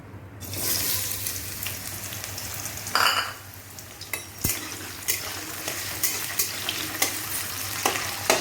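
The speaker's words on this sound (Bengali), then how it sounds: "আলুটা একটু লাল করে ভেজে নিই" Potatoes frying in hot oil for ghugni, a continuous crackling sizzle broken by a brief burst of running water and a string of sharp utensil taps against the pan.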